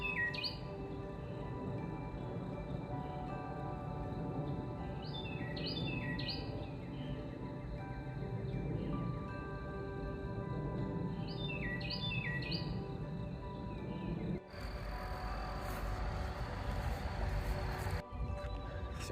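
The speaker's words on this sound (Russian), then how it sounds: "Хорошо, птички поют" Birds sing in a field on a May morning: many small chirps and tweets, some fairly close and others farther off, over a soft steady insect-like hum, with a brief rustly noise near the end.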